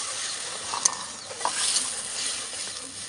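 Ground spice paste and tomato paste deep-frying in hot oil after onions, a steady close sizzle with a couple of brief stirring scrapes and no talk.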